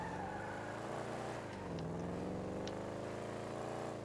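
A car engine revs in Grand Theft Auto, a steady loud growl that dips briefly and then climbs again, heard alone without talking.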